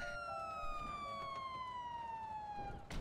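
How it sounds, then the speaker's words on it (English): Police car siren in the GTA NoPixel roleplay video game, a loud steady wailing tone sliding slowly downward across the whole stretch, with a sharp noise burst near the end. "My siren."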